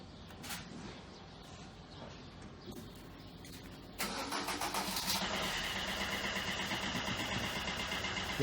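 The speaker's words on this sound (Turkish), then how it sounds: "çalıştıralım arabayı." A Coca-Cola delivery truck engine cranks and catches, then settles into a steady idle, heard from nearby at moderate volume.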